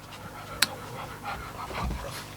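A dog that has just come back from a walk pants softly and steadily nearby, with a sharp click and light shuffling noises in a quiet room.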